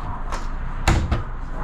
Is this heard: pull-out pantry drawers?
yes